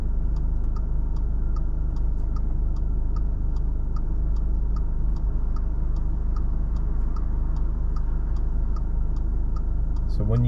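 A car's turn-signal indicator ticking in an even, rapid rhythm over a low idling engine rumble while stopped at traffic lights during a driving lesson.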